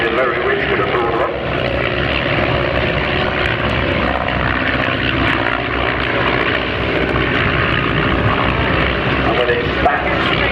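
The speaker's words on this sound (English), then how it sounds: "Powered by a 134 horsepower Manasco Super Pirate 4-cylinder inverted air-cooled engine." A steady, loud vintage propeller aeroplane's 134 horsepower Menasco Super Pirate inverted four-cylinder air-cooled engine drones without a break, with a broad rumbling roar that holds close and even throughout.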